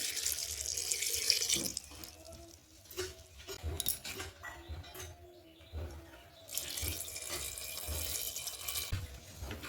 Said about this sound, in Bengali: এখন এর মধ্যে দিয়ে দেব পরিমাণ মতো জল